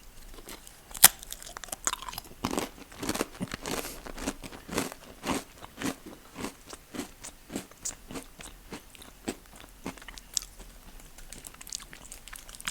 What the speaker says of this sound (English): let me take a bite.